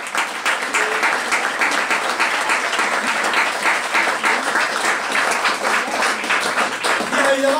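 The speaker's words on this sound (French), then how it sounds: "vraiment vous pouvez les applaudir très fort" A crowd gives a loud, sustained round of applause for a team after a cable-car interview event. Dense, even clapping fills the whole stretch without a break.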